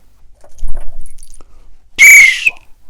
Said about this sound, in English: as soon as they heard the guard's whistle